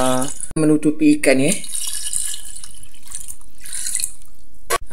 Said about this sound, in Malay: Tuangkan plain water ya, air sampai menutupi